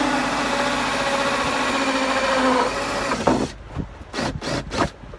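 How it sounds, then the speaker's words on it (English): A 2-inch hole saw cuts through material for 1.5-inch pipe, a steady whirring grind that runs continuously for about three seconds, then stops and gives way to several short bursts of scraping and clattering. "Okay, 2-inch hole saw"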